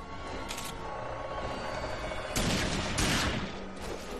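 Gunfire in the shooter game RAGE, several bursts of sharp shots over a dense noisy background, close and fairly loud.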